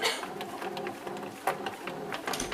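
A bread machine kneading fairly stiff homemade dough, giving a steady low mechanical churning with soft rhythmic thumps and whirring, quiet and continuous.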